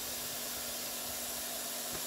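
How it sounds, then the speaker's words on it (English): A Karcher FJ6 foam cannon sprays in a horizontal fan, giving a steady, loud, broad hiss that holds unchanged from start to finish. "And then you can twist the nozzle 90 degrees to get a horizontal spray fan."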